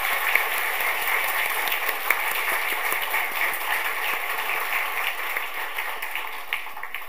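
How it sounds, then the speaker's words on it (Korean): A standing church congregation at a Korean Sunday service gives loud, sustained applause, a dense, even wash of many hands clapping together from start to finish. "우리 잠깐 자리에서 일어나 주실 때 큰 박수로 함께 축복하고 격려하도록 하겠습니다"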